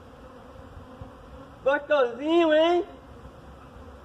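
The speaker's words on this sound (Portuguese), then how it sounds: "Cheio de abelha, galera." Bees buzz close around a man eating honey, a low drone under his loud, excited talk and laughter.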